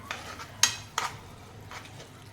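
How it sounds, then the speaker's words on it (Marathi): Masala being sautéed in oil for a yogurt chilli dish, with a few soft scraping stirs and light clinks over a faint background. "आपल्याला आता या मसाल्याला तेल सुटेपर्यंत परतायचं आहे"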